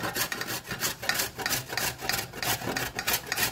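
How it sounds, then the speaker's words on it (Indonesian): Three carrots being grated by hand for steamed tofu, a steady rhythmic rasping with repeated strokes at an even pace, close and clear with no talk. "Setelah itu parut 3 buah wortel"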